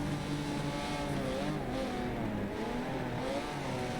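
McLaren and Ferrari race cars in a sim racing game drone together at a steady engine pitch, with overlapping tones that shift slightly as the cars race side by side.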